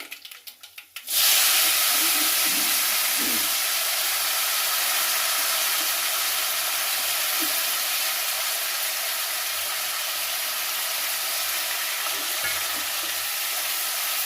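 Brinjal pieces hit hot oil in a pan with roasting onions and break into a loud, steady sizzle. The frying hiss fills the whole stretch with faint stirring underneath.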